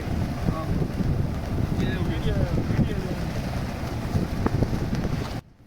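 Wind blowing steadily across the sea aboard a fishing boat, a constant broad rushing noise with faint creaks and splashes, while people talk in the background, before cutting off abruptly.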